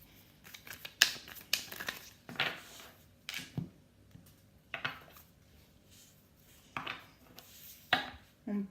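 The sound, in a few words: tarot cards being shuffled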